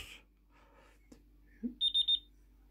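A digital talking clock's alarm gives a quick burst of four high, electronic beeps after a few soft clicks, close and clear.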